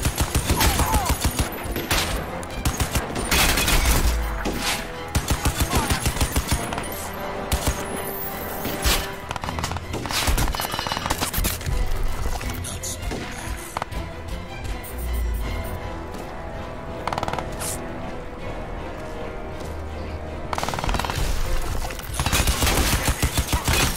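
Rapid automatic gunfire from a gun in the shooter Crysis 2, loud and close, firing in long sustained bursts with short pauses between them.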